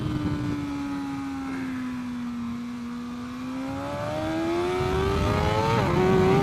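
Racing motorcycle engine on a MotoGP circuit, a steady loud whine that dips as it slows into a downshift toward first gear, then climbs again with a brief blip near the end; no talking.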